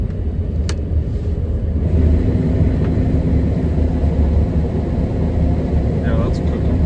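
A Fendt Ideal 9T combine harvesting canola, with a loud steady engine and machinery rumble that thickens slightly as the header engages, while a person talks over it.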